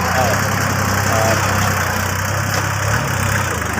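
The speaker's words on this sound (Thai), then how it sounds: "ตอนนี้รถไถกำลังตกแต่ง ปรับระดับดิน" A tractor levels soil around a crematorium before concrete is poured, its engine a loud, steady, close rumble that drones on without pause.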